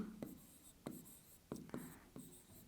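Writing on a board during a maths lesson on triangles: five short, crisp strokes spaced at an uneven rhythm, close and faint, with no speech over them.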